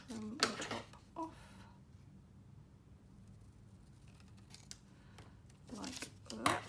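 Scissors trimming the top off a papercraft piece, giving a few short, close snipping and cutting sounds at the start and end with quiet room tone between.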